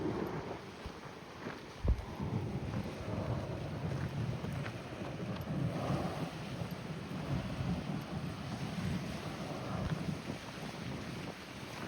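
Wind blowing at Alameda harbor, steady gusty rushing noise buffeting the microphone with a brief thump, continuous and fairly loud with no talking.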